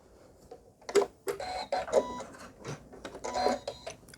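An embroidery machine stitches a stippling quilt design in close, uneven bursts of rapid mechanical whirring and clatter, with short pauses between them.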